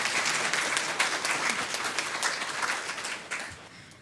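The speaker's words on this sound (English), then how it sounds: "give them a round of applause for all that they do for us" Audience at a school district board meeting applauds steadily for about four seconds, a dense wash of many hands clapping that tapers slightly toward the end.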